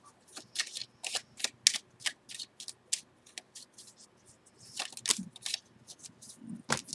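Tarot cards shuffled by hand close up, with quick irregular riffles and slaps in bursts over a quiet background.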